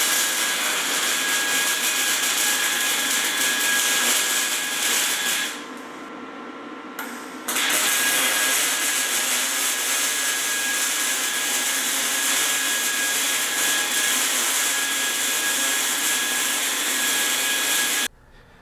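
Harbor Freight Vulcan MIGMAX 140 welder running on 120 volts with flux core wire, a loud steady hiss and buzz that cuts off briefly before resuming and ending abruptly.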